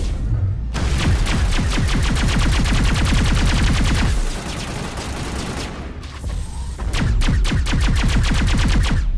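Sustained automatic gunfire in the video game Mass Effect, loud rapid rattling bursts with a short lull midway before the shooting resumes.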